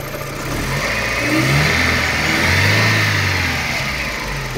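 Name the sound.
Daewoo Nexia car engine revving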